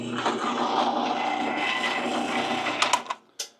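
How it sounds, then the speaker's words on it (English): A close power drill whirs steadily for about three seconds, drilling a hole during trailer repairs, then cuts out with a couple of short bursts as it stops. "And you drill it."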